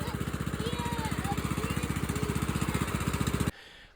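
A riding lawn mower's engine runs steadily after its carburetor was replaced, a fast, even chugging pulse at close range that cuts off abruptly near the end, leaving quiet background.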